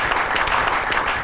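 A studio audience on a comedy talk show greets guest Asad Malik with loud, dense applause, a brief continuous burst of clapping close and full with no speech.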